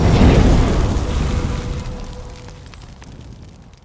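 A single loud rifle shot from a Seekins HAVAK PH2 chambered in 300 PRC booms at an outdoor range, its heavy blast rolling away into a fading echo over a few seconds.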